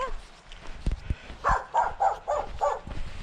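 Several dog barks in a quick series, moderately close, following a few low thumps, with some background noise.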